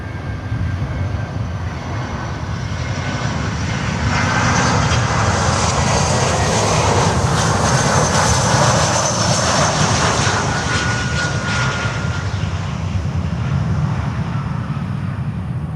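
Airliner on final approach to land at Miami airport with gear coming down, a steady loud jet roar swelling to a peak midway then easing slightly, continuous with no talking.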